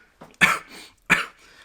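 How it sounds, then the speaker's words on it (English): Two sharp, close coughs about half a second apart, each followed by a softer breathy tail, with brief quiet between. "I have the cardio cough at the moment."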